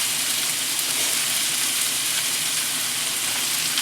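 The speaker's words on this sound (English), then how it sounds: "Go ahead and just crumble in my beef to the onions." Ground beef crumbled into onions sizzles in a hot pan, a dense, even hiss that runs loud and unbroken throughout.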